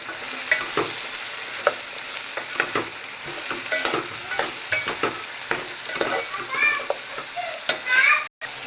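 Vegetables, soaked soya chunks and curry leaves fry for a vegetable pulao with a steady close sizzle, broken by repeated scraping stirs of a spoon against the pan, no one talking.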